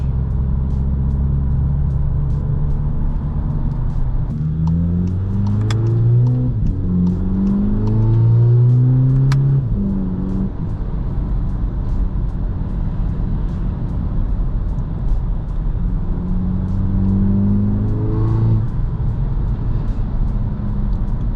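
A VW Polo GTI 2.0 engine and exhaust rise in loud, close revs from inside the car, two strong surges of climbing pitch separated by steadier cruising hum, with a steady road rumble underneath.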